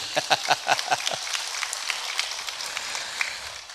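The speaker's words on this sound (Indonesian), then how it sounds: "Tepuk tangan lagi." A short burst of clapping from a small group at an alumni gathering, several quick claps in the first second, then fading into crowd murmur and background noise.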